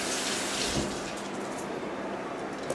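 Tap water runs steadily from a kitchen faucet over a freshly peeled potato being rinsed before boiling, a continuous close hiss and splash holding even for a few seconds.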